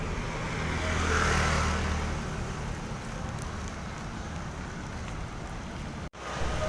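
Light drizzle falls steadily over a street in Jakarta, a soft, even hiss at low level with a faint undertone of passing traffic and a brief dropout near the end.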